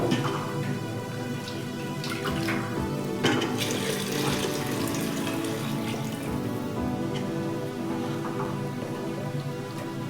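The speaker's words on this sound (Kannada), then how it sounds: "ಮಸಾಲೆ ಹಾಕ್ಕೊಂಡಿರೋಂಥ ಪಾತ್ರೆಗೂ ನೀರು ಹಾಕ್ಕೊಂಡು ಸ್ವಲ್ಪ ತೊಳೆದು ಹಾಕೋಬೇಕು" Water poured into a vessel that held ground masala, rinsing it out for a Karnataka-style bassaru curry; a steady splashing, trickling stream runs close and alone for the whole span, with brief sharper splashes.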